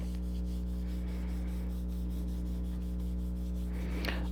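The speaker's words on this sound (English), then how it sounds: "I'm going to rub it from the back." Steady, even rubbing strokes across the back of a card with a white border, soft and close, repeating in a regular rhythm over a low constant hum, ending with a slightly sharper scuff.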